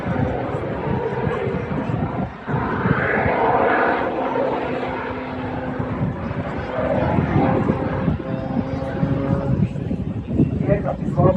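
A thirsty jet-turbine display aircraft flies at the Riviera airshow, its engine a broad, continuous roar that swells and shifts as it passes, with an announcer talking over it throughout.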